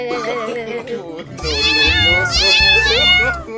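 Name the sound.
kitten meowing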